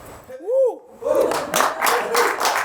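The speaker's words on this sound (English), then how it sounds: "Yeah, but why are they clapping?" An audience breaks into clapping after a brief spoken phrase, a dense burst of applause from a studio crowd lasting a couple of seconds.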